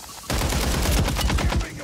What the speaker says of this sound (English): Oh boy, I'm getting sniped at.